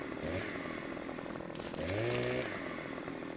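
A chainsaw in the Farming Simulator 15 game cutting logs runs with a steady raspy engine whine that revs up briefly midway, then settles back to idle, heard alone at moderate level.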